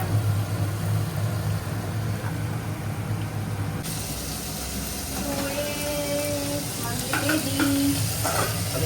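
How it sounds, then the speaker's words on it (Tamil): Onions frying in a pan for chicken mandi, with a steady sizzle and occasional stirring scrapes under a constant low background hum, while people talk nearby. "ஆனியன் ஃப்ரை ஆயிடுச்சா? நல்லா ஃப்ரை ஆகும்."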